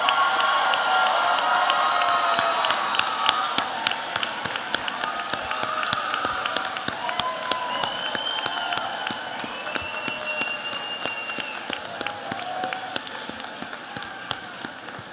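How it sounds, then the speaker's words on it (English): Families applaud nursing graduates at a pinning ceremony, sustained crowd clapping with scattered cheers and whoops filling a large room, dense at first and thinning gradually toward the end. "Families, please give them a round of applause."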